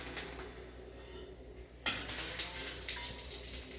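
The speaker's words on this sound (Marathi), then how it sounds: "आपली ही फोडणी झालेली आता आता ह्याच्यात मी घालून घेते" A sudden sharp sizzle erupts as hot tempering is poured onto a cucumber and beetroot salad and keeps crackling, with light clinks of utensils nearby.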